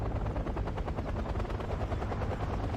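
Iroquois helicopters in a Wargame: Red Dragon battle, a thick continuous rotor thrum blended with rapid pulsing machine-gun fire, loud and close without pause.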